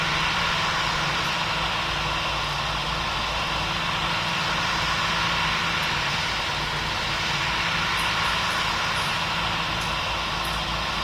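An Emirates Boeing 777 lands in the PTFS flight game, giving a loud, continuous jet engine roar and rumble that holds steady throughout with no pauses.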